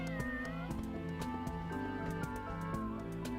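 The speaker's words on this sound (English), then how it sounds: "Look, there's a cat over there." A cat meows in the video game Dyscourse, repeated short tonal cries over a steady bed of game music with regular percussive beats.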